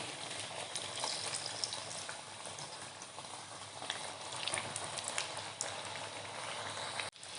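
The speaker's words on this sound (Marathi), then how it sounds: "तर बघा दुसरे पण पॅटीस आपण तळून घेतो" Potato-filled khari patties deep-fry in plenty of hot oil, giving a dense, even bubbling sizzle that holds steady throughout, with one sharp knock near the end.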